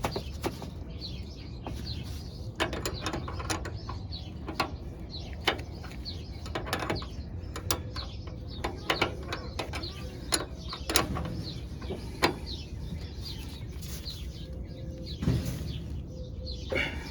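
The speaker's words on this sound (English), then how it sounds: "Now we just gotta get this top bolt on" A ratchet clicks in short irregular bursts while tightening the top bolt on the upper control arm of a Nissan D21 pickup, over a steady background hum of a garage setting.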